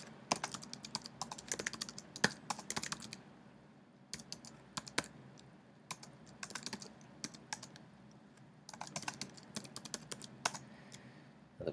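Close, quiet typing on a computer keyboard while entering data into a spreadsheet, rapid clustered keystrokes in bursts separated by brief pauses, with no voices.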